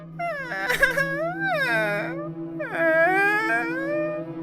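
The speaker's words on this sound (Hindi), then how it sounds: "जब वो जंगल से होकर गुजर रही थी तो उसे किसी के रोने की आवाज सुनाई दी" A little ghost in a cartoon story crying in a forest, a high, wavering wail with rising and falling sobbing tones in two drawn-out bursts, close and clear over a steady low hum.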